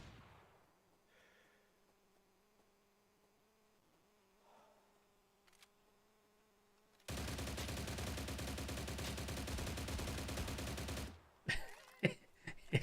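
A sustained burst of rapid automatic gunfire with heavy recoil in the video game STALCRAFT lasts about four seconds after a quiet stretch, followed by a few scattered sharp shots.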